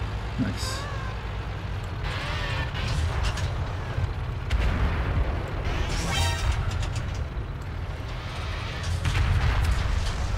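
Tank cannon fire in World of Tanks, with repeated heavy booming shots and rumbling engine noise throughout a dense, loud battle mix.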